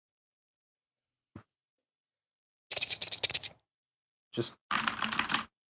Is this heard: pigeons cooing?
no